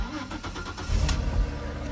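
A 2002 Audi A4 with a V6 engine cranks and fires, then settles into a loud, steady idle rumble close by.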